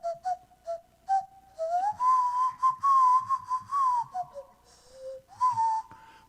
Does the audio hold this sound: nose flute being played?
yes